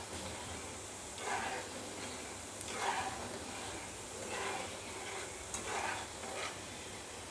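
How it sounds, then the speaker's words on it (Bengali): Boondi fries crisp in hot oil with a steady sizzle, and a spoon stirs and scrapes the pan in slow, repeated strokes. The frying sits close and moderately quiet with no talk over it. "আমি এখন একটু কড়া করে ভেজে নিয়ে"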